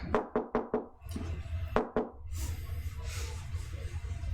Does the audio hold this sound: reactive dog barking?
no